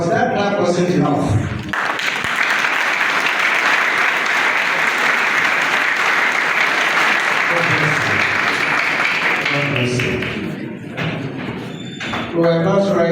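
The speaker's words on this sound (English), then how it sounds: "But that clap wasn't enough." Loud, sustained applause from a large audience at a groundbreaking ceremony for an entrepreneurship center at Yaba Tech fills most of the clip, with speech briefly at the start and end.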